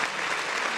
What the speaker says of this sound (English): Give these fellas a round of applause